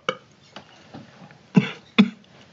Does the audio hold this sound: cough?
yes